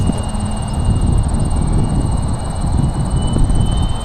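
A radio-controlled MiG-15 model jet with wheels flies at full throttle on a windy day, giving a continuous droning engine whine over heavy low wind rumble, steady and moderately near without speech.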